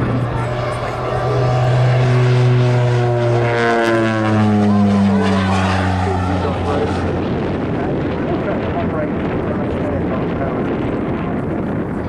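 A North American Bronco propeller aircraft passes at the Southport airshow in 2018, its droning engine tones sliding down in pitch as it flies by, loud and continuous, with wind buffeting the microphone.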